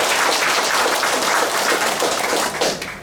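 An audience claps together at a comedy show during a memorial association's founding event, steady and dense throughout and thinning slightly at the very end, with no talking on top.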